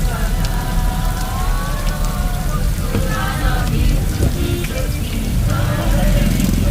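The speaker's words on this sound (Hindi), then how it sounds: "लेकिन अचानक से बारिश होने लगी और बारिश ने सबका मन मोह लिया" Heavy rain drums steadily on a bus's roof and windows during a pilgrimage road trip in the Himalayas toward Kedarnath, a dense continuous patter with faint vehicle rumble underneath.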